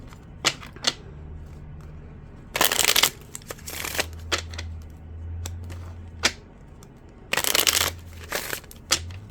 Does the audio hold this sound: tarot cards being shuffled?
yes